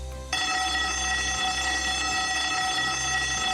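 A building emergency evacuation alarm at the World Trade Center Kuala Lumpur starts abruptly after a short quiet moment, then blares as a loud, steady, ringing electronic tone that holds unbroken to the end.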